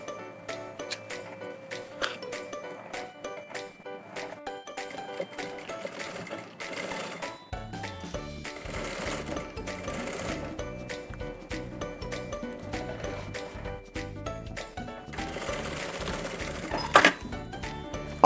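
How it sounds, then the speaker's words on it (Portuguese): A sewing machine runs in bursts of rapid, steady stitching along the edge of a bag, close up, with brief pauses and faint mechanical clicks between runs. "vou passar uma costurinha menos de um pé de máquina"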